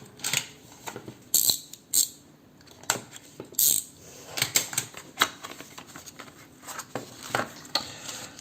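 Cardboard packaging of Bluedio Hi TWS wireless earbuds being opened, giving a run of sharp clicks, snaps and rustles in irregular bursts, close and fairly quiet, with no talking.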